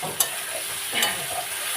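Masala and pointed gourd being stir-fried in a pan, with a soft steady sizzle broken by a couple of sharp scraping stirs of the spatula, close and moderately quiet, no talking.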